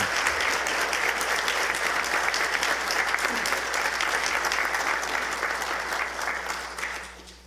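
An audience at a community choir's spring concert gives sustained, loud applause as the pianist and director take the stage. The clapping is dense and continuous, then tapers off at the end.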